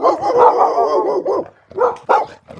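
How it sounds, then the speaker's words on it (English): A pack of dogs barks in a continuous run of overlapping, yelping barks, then a few separate louder barks and yips after a short pause. No talk. "Just then they heard the barking of a pack of dogs in the distance."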